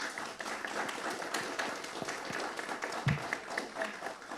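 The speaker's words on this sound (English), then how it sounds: "Can we give another round of applause for our guests," Audience applause for guests at a community gathering, a dense steady patter of clapping across the whole stretch, moderately distant, with faint voices mixed in.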